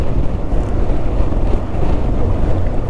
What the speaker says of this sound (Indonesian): Anginnya cukup kencang teman-teman di sini.